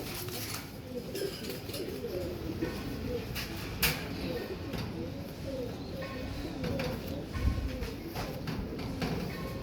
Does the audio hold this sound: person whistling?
no